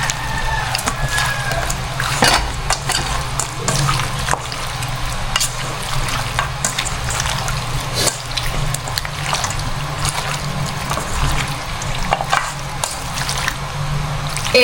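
Steady crackling and sizzling of eggplant frying in a pan, continuous and close, with occasional clinks and scrapes.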